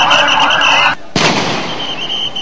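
Blank gunfire by security forces (RAB, police and BGB) dispersing a night rally at Shapla Chattar, heard as a loud sharp report that cuts through steady crowd noise, with a dense crackling burst and continuing din.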